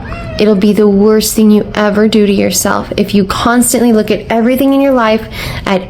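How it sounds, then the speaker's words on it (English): A domestic cat meows repeatedly in long, wavering, tonal cries that overlap a person talking steadily at close range, the meows prominent and loud throughout. "That was my cat."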